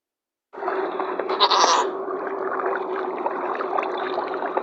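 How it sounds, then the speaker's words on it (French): A goat bleats inside a cave in the Minecraft horror mod From the Fog, a wavering call over a steady droning ambient background, with a brief brighter rise partway through. "Je viens d'entendre le bruit d'une chèvre."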